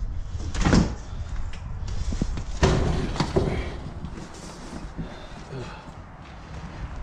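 Door of a 1971 VW Westfalia bus thudding shut twice, heavy metal slams close by with a rattling tail, among shuffling and quiet voices.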